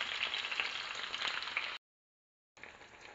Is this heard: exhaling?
no